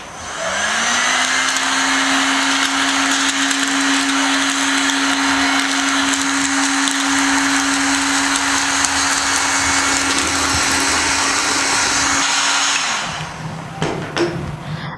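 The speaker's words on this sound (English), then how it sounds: "let me show you how to use the heater blower gun" A heat gun blows hot air onto shrink film wrapped around a sublimation wine cooler, a loud, steady whirring blast with a constant motor hum that runs for about twelve seconds and then stops.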